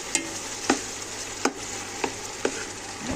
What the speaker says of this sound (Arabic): نقلب.